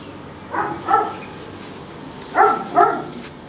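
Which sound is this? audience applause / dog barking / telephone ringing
dog barking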